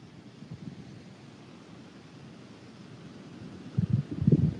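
Wind blows across an open outdoor spot on a warm, stormy-looking day, a steady low rushing roar with buffeting gusts that swell louder toward the end, with no talking.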